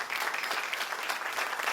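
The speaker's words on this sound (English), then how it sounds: "Let's give a round of applause." Audience applause at a community organization's annual meeting, a dense, even clatter of many hands clapping steadily at moderate volume without any voices.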